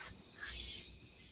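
Crickets and cicadas trill steadily by a lakeside at night, a faint continuous insect chorus with no talk.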